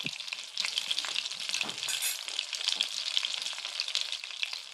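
Turmeric, red chili and salt stirred in hot oil in a pan while making homemade popcorn, a close, steady sizzle and crackle with scraping stirring throughout.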